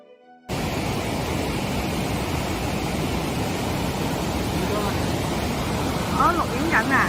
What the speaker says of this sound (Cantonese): 嚟到觀賞呢個美麗嘅瀑布